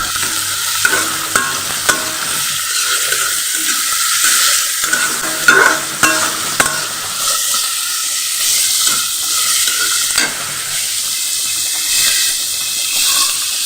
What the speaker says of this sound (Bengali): তারপরে আমি একটু নেড়ে ছেড়ে নিব।